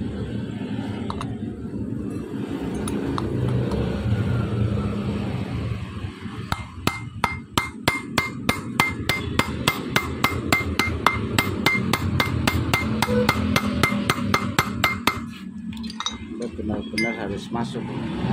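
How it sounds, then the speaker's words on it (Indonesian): A hammer knocks a part into place during a repair with a rapid, even series of sharp, ringing metallic blows, roughly two dozen in a row, close and loud over a busy room background. "Jadi kita ngetoknya itu harus sama."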